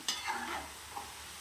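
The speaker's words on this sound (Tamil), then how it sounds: "இதை எடுத்து இந்த எண்ணெயில் போட்டு பொரிச்சுக்கலாம் பாருங்கள் இந்த மாதிரி நல்லா பொரித்து எடுத்துக்கலாம்" Yam pieces deep-frying in hot oil with a soft, steady sizzle and a few brief bubbling pops and stirring sounds, faint and close, with no voices.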